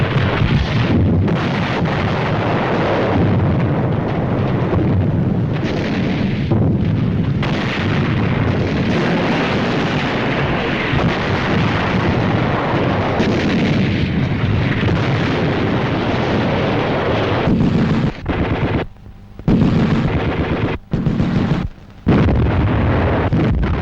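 Allied artillery fires in a 1945 battle, a loud continuous rumbling roar of distant guns and blasts that holds steady and breaks into brief gaps near the end.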